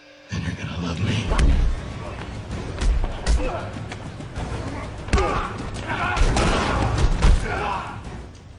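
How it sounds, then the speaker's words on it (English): Punches and kicks land with heavy thuds and slams during a Batman versus Joker fight scene, a string of loud, irregular impacts over dense scuffling and music-like background. "Every punch and kick makes a loud thud"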